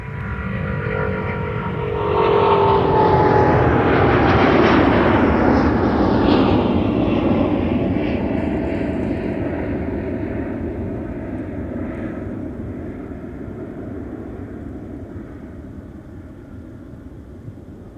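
A Delta heavy jet with Rolls-Royce Trent 7000 engines growls at Minneapolis–St. Paul Airport. The loud, rumbling roar swells over the first few seconds, then slowly fades as the aircraft moves away, with no voices.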